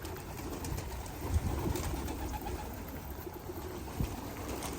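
A pigeon coos softly amid faint outdoor background noise, with a few low muffled bumps.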